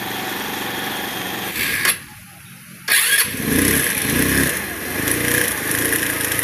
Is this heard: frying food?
no